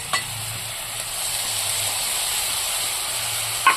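Ground ginger, garlic and green chilli paste hitting hot oil in a frying pan gives a steady close hiss and sizzle, with a couple of sharp clinks of a utensil against the pan.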